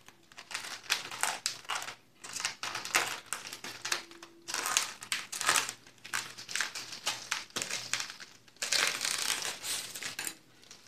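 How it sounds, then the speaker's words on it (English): A blade cuts through the thin outer covering layer of a model aircraft wing, with crackly, crinkling rasps in short bursts separated by brief pauses, close up and alone. "to cut down this outer layer only. So this side also I am cutting."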